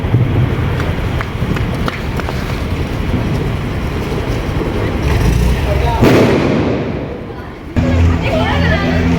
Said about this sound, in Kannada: Atom bomb ಮಸ್ತಾನ, atom bomb.